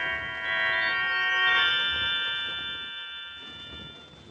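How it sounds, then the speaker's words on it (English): A doorbell chimes once with a sustained ringing tone that slowly fades over a few seconds, heard alone in a quiet setting. "I rang the doorbell."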